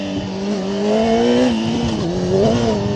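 A racing motorcycle on a track in Italy, running on new grippy tyres, its engine note rising and falling steadily through shifts and corners, loud and continuous with no talk.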